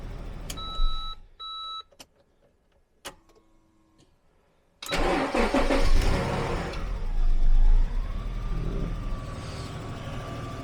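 A cheap older Jaguar car, previously unreliable, gives a few short electronic beeps before its engine fires and revs up loudly, the pitch climbing and easing back across several seconds.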